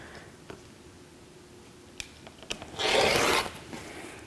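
Fabric being trimmed to size after measuring a 14.5-inch cut: one loud rasping cut near the end, with a few light clicks and taps before it, close and alone with no talk.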